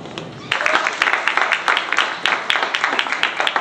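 Audience applause at a breast cancer event honoring those fighting the disease, a dense crowd clapping that swells after a quieter start and continues steadily with sharp individual claps standing out.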